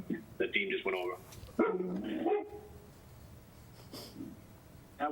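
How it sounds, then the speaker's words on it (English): A dog barks in a few quick nearby bursts during a finance committee meeting, then the room falls to faint background hum. "That wasn't me barking"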